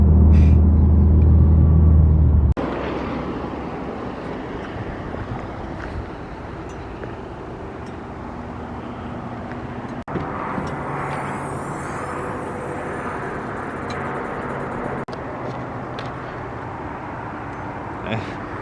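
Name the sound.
Subaru STI car engine while driving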